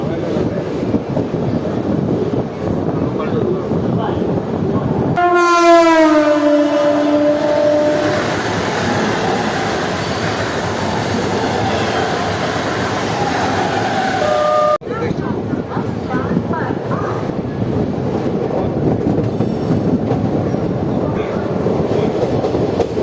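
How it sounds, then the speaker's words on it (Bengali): Kaviguru Express (13028) rolling slowly through Bally railway station, a steady loud rumble of wheels and carriages with a brief screeching horn-like tonal blare partway through, ending in a sudden shift to quieter cabin rumble. "আমাদের ট্রেন ক্রস করছে এখন বালি রেলওয়ে স্টেশন।"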